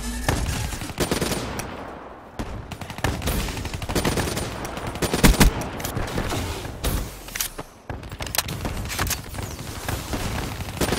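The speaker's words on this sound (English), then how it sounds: "Remember, this is the assault rifle." In Black Ops 3, an assault rifle fires in dense, loud bursts, with near-constant automatic gunfire, explosions and game effects filling the whole stretch and only brief lulls.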